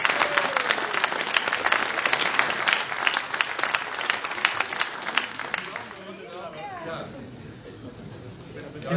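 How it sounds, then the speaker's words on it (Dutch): A crowd at a Leiden charity evening gives a lively round of clapping for a blind runners' foundation. The clapping is loud and busy at first, then fades after about six seconds into a quieter room with a few voices. "een applaus voor Stichting Running Blind"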